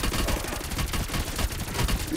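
Dense, rapid gunfire from the Call of Duty: Black Ops Cold War video game, a loud continuous burst of shots with no pauses.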